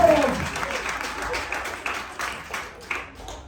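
An audience at a seminar camp bursts into applause. Clapping is loudest at the start, then comes in uneven swells and fades, with voices calling out over it.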